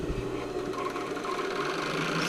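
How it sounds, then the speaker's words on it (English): An overlocker serger hums steadily as it runs along the top edge of fabric for an 80s sailor shirt, a continuous mechanical whir close by with no voices. "I'm going to overlock this at the one edge, the top edge"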